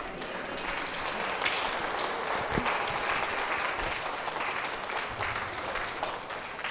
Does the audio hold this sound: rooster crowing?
no